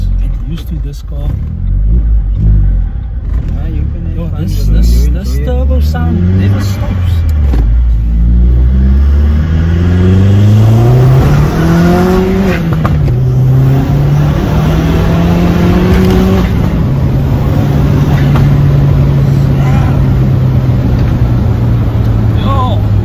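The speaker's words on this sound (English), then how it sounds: "This turbo sound never stops." A red Vauxhall Astra OPC with a hybrid turbo revs hard from inside the cabin, the engine note climbing through repeated loud pulls with steady turbo whoosh, while people talk over it.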